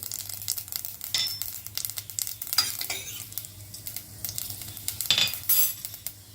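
Mustard seeds and urad dal crackle in hot oil, giving busy close spitting and popping mixed with metal spoon clinks against the pan, loud and uneven throughout.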